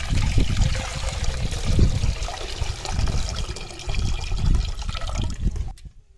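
Rice-washing water is poured from one pot into another in a home kitchen, a steady close splashing gush with uneven surges that tapers off and stops abruptly near the end.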